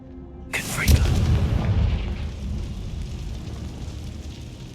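Confringo fire spell blast in Hogwarts Legacy: a sudden loud burst followed by a deep rumbling roar that slowly fades.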